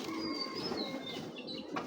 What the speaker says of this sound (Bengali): কবুতরটা খুব ছটফট করতেছে হাতের ভিতরে